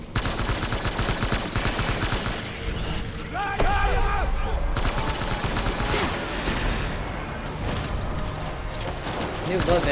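Sustained gunfire rattles through a Death Stranding firefight, loud, rapid bursts layered with mechanical clatter and ringing tones, with a voice speaking over it.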